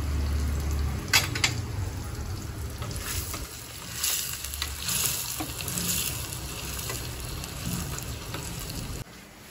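Onions fry in a pan for a pumpkin sambar, giving a continuous soft sizzle with scattered crackles and occasional clinks, as if stirred, heard close with no talking.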